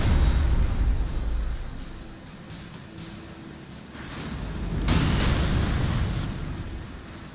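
Fire ballista shots in the game Elden Ring land as heavy booming explosions with a rumbling roar, one swelling burst midway and a sustained noisy rumble, with no talk.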